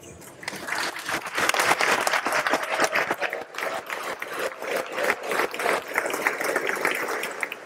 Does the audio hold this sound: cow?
no